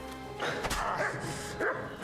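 In the medieval video game Kingdom Come Deliverance 2, a dog barks a few times while fighting alongside the player, the barks fairly close and mixed into dense combat clatter and background game sound.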